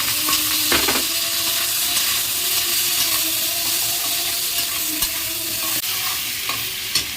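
Potato pieces fry in hot oil with chilli and ginger in a pan, in a cauliflower curry, giving a steady close sizzle throughout. A utensil stirs and scrapes the pan in irregular strokes. No one speaks.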